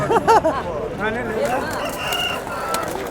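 Roosters and hens at a weekly chicken market in Galiveedu: a loud, close crow rises at the start, followed by more wavering calls and clucks over steady market hubbub.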